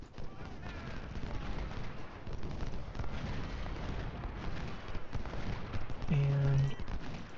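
Civil War musket volleys at the Battle of Bull Run in Ultimate General: Civil War, heard as a dense, distant crackle of many scattered shots rolling on steadily under a voice speaking.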